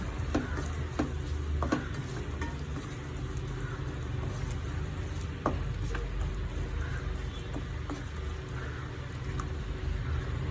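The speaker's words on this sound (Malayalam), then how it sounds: "ഇനി ഇത് നന്നായിട്ടൊന്ന് ഇളക്കി കൊടുക്കണം" Asafoetida and turmeric powder are stirred in a hot pan for a mango curry. A low, steady sizzle runs throughout, broken by occasional soft scrapes and taps of the spoon against the pan.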